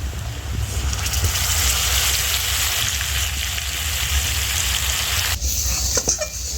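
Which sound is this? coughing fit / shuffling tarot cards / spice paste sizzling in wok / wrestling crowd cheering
spice paste sizzling in wok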